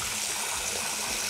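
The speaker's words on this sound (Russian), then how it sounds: "Добавим чуть-чуть воды." Water runs from a tap into a sink in a steady, bright, close rushing stream that never lets up.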